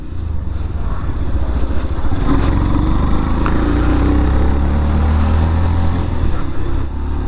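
A Yamaha FZ-X motorcycle engine drones steadily at speed, with loud, continuous engine and wind noise and no breaks.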